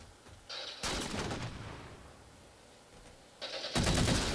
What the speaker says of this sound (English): Excessive LP has now moved on to the assault rifle.